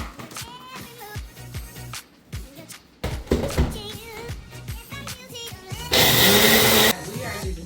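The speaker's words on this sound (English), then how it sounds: "we're gonna blend this up" Blender whirring through peppers and veggie broth, a roaring burst of blade noise near the end after clattering kitchen handling sounds, loud and close, with a voice speaking earlier.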